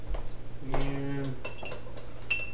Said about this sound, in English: just mix it in, dissolves it